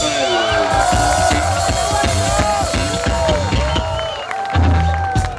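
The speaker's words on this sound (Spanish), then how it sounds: "Un aplauso" Crowd at the Woodstaco 2017 music festival cheering and clapping from an outdoor stage audience, a dense continuous wash of applause and shouts with some voices mixed in and a low thump near the end.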